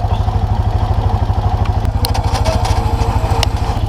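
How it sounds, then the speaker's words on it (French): An ATV runs with a slug pellet spreader turbine going. The engine throbs steadily and loudly close by, with a rapid, even pulse and light mechanical clatter on top. "On démarre la turbine."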